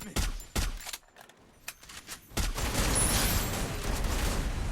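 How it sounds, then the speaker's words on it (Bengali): Sustained gunfire in the video game Free Fire, sharp bursts early then a dense continuous stretch of rapid shots, fairly quiet in the mix. "লং ফায়ার দাও।"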